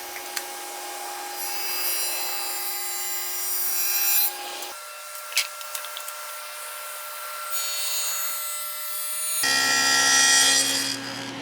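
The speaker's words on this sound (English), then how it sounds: "use a dado stack on your table saw" Table saw fitted with a dado stack cutting dados in wood for a DIY garage cabinet, a steady tonal whine and rasping cut that shifts pitch in three distinct stretches, close and fairly loud.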